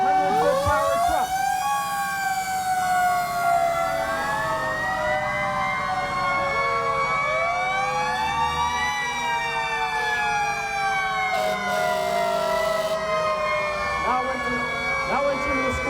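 A fire engine from Amesbury, Massachusetts rolls into the square in a Santa parade, its siren sweeping up and down in overlapping wails, loud and continuous for the whole stretch.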